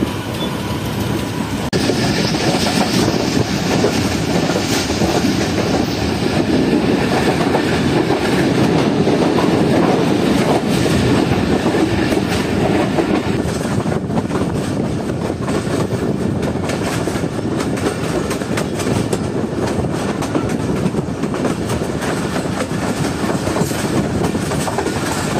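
Tezgam passenger train running between Rahim Yar Khan and Karachi, a loud continuous roar of wheels on track with steady clickety-clack from inside a nearly empty coach, no talking.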